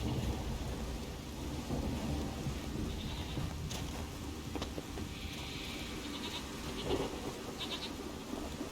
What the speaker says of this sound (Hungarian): Hegyi kecskék